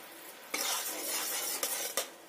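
Whole spices, including a split cardamom, a torn bay leaf and a cinnamon stick, fry in hot oil with a soft, close sizzle, broken by a few quick stirring scrapes of a spoon against the pan.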